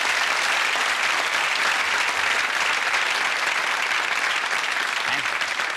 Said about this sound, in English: I'd like a nice round of applause for a very good volunteer.